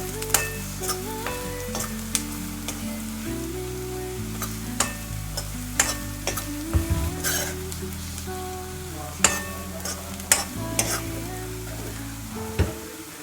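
Onions fry in a pan for ragi shavige upma, giving a steady close sizzle with occasional stirring clicks and scrapes, all under background music.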